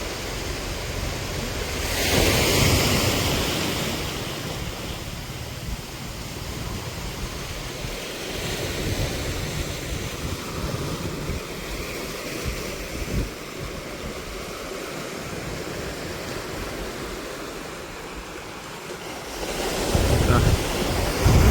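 Rough sea surges at Blangad beach, a loud continuous roar of breaking waves and wind buffeting the microphone, swelling in strength at the start and again near the end.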